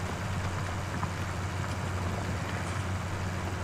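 Steady low engine rumble of a classic tractor in Farming Simulator 19, loud and close, holding an even drone throughout with no speech.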